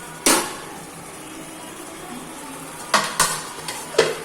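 A spatula stirs chicken curry being cooked down in a pan, giving a sharp knock early, then a soft low sizzle, followed by several quick clattering scrapes and taps near the end.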